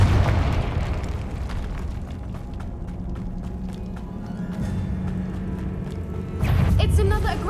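Confringo blasting spell explosions rumble in Hogwarts Legacy, with a low ongoing roar and a heavier blast near the end, while faint voices sound underneath.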